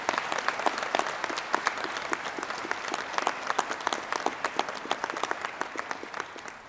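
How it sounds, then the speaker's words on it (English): Graduation ceremony audience gives a sustained round of applause, dense many-handed clapping with sharp individual claps standing out, steady and fairly close throughout. "I think you deserve another round of applause."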